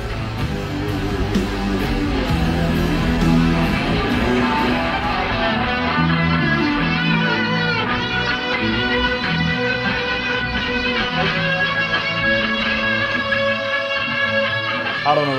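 Electric guitar through a Big Muff fuzz, Boss CS3 compressor and delay, a thick sustained lead with echoing trails, playing continuously and fairly loud over dense backing.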